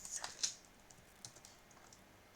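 Computer keyboard keys clicking in a quick, faint burst of a few keystrokes at the start, then scattered lighter taps, close by and without talk.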